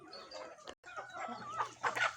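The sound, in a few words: chickens clucking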